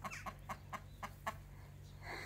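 Chickens clucking in a rhythmic series of short calls along a rural walking route in Ireland, faint and somewhat distant over a steady low background hum.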